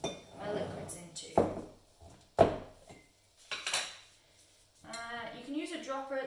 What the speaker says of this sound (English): I'm just going to kind of roughly mix my pigments into my chalk.